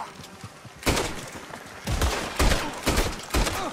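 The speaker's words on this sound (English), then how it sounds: "Uh-oh, somebody's shooting." Gunfire in the Western video game Red Dead Redemption 2, a series of loud booming shots spaced about half a second apart after a quieter opening, close and punchy.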